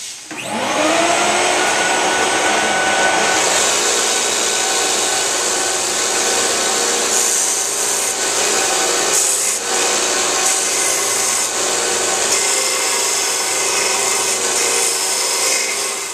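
Steady, loud abrasive rubbing of sanding against a wooden knife handle, a continuous gritty hiss with a whirring power-tool tone underneath.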